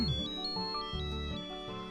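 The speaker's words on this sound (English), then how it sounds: "My cell phone suddenly rang." A cell phone rings with a steady tonal melody of repeating high notes over a low pulsing beat, loud and continuous, with no voices.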